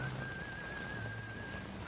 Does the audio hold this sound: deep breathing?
no